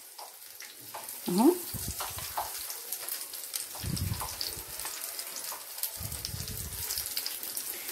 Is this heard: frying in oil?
yes